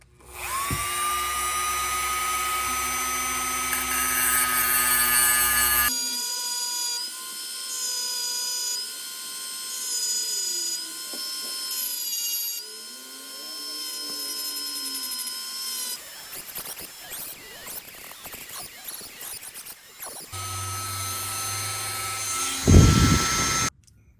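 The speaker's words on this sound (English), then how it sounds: "I'm just going to use a Dremel for that" A Dremel rotary tool grinds metal off an aircraft's main landing gear, giving a loud, high, steady whine that shifts in pitch as it bites. The tool cuts out and restarts several times over a long stretch.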